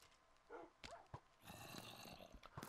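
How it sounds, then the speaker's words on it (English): A dog in the Minecraft video game whimpers and yips in a few short, faint bursts, quiet and slightly distant with game ambience behind. "I don't like the sound of the dog."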